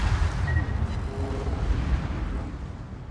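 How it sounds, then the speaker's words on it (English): A World of Warships torpedo strikes an enemy ship, heard as a dull, rumbling booming impact over the game's dense, continuous battle noise, with no voices. "So I get one of the torps to barely hit."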